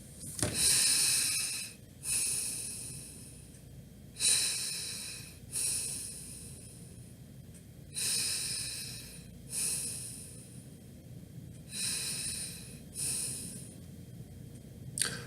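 Slow, controlled breathing is demonstrated in a counseling setting. Long, hissy inhales and exhales alternate in an unhurried rhythm, with a soft snort-like edge on some of them. The breathing is close and fairly quiet, and no one speaks.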